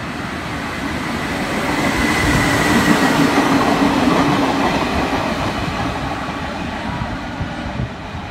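Vivid Express special train from the Lithgow State Mine Railway passing Blacktown platform 5 toward Central, a loud, close rumble of wheels on rails swelling and then easing as it rolls by.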